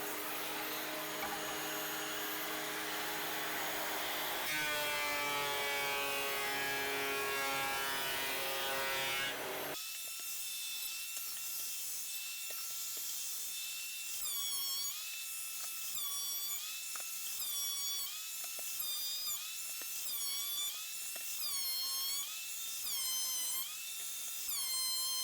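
Electric planer shaving wood while building a budget storage rack: a steady, loud broadband machine roar that changes pitch around the midpoint and carries rising and falling whines over a constant drone, with no talking.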